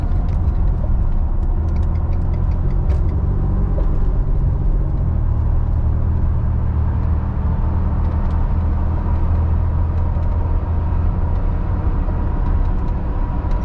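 Steady, loud road roar from inside a lifted truck at about 70 mph on a highway, a continuous low rumble of tires droning without a break.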